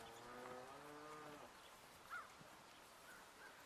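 Cattle on a neighboring farm give a drawn-out, low moo lasting over a second. A faint, brief chirp follows, then quiet outdoor background.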